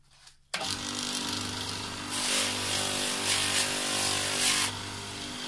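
A power sander starts up abruptly and runs steadily on brass fittings with fine 600-grit abrasive, a loud close whine whose gritty hiss swells in several bursts as the abrasive presses against the metal.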